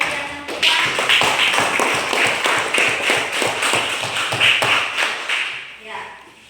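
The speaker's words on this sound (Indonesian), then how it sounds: "Mari kita sekali lagi berikan aplaus untuk kegiatan kita." A classroom full of students claps together in steady, brisk applause that holds loud for several seconds and then tapers off, following a teacher's closing remarks after a lesson activity.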